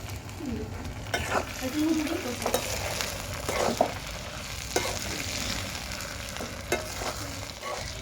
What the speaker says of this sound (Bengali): এরপর এটাকে কিছুক্ষণ নাড়িয়ে নেব। এবার দিলাম টমেটোটা